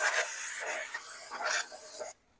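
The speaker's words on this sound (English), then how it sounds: "So now we'll clean up the actual cylinder jug as well. Same thing, little carb cleaner." Wiping and scrubbing a Porsche 914 Type 4 engine cylinder jug with carb cleaner gives close, harsh rubbing strokes in a few uneven bursts, ending abruptly.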